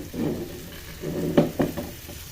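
Omelette batter hitting a hot pan for cheese toast crackles in a soft, steady sizzle, broken by a few quick scraping clinks of a utensil spreading it around, close and moderately quiet with no talk.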